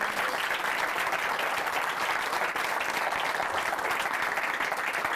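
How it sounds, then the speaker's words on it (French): Steady, dense applause from a theatre audience for the actors Pierre Delaveine and Jean-Philippe Zappa, sustained at an even level throughout with no voices standing out. "On peut les applaudir très très fort."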